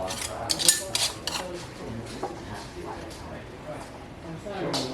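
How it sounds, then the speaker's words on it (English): Glass canning jars of raw-packed bone-in chicken, including Tattler lids, getting their lids screwed on finger tight, with small clinks and scrapes of metal and glass close by while people talk. "Alright, so let's put the lids on. Finger tight."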